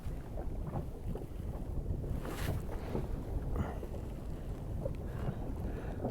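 Wind gusts buffet the microphone on open sea water off Valentia Island in County Kerry while out in a small boat, a steady low rumble with soft splashes and no talk.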